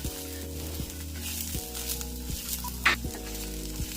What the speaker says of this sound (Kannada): ಈಗ ಇದನ್ನೆಲ್ಲ ಹುರಿದಿರೋದಾಗಿದೆ